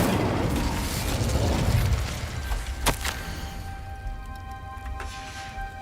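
An Incendio fire spell bursts in the game Hogwarts Legacy, a dense whooshing blast that fades after a couple of seconds, then a sharp crack and lingering tonal chimes.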